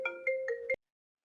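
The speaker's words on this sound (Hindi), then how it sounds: "फ़ोन आ रहा है" A phone ringtone plays a short electronic melody of four quick tonal notes, clear and close, then cuts off into silence.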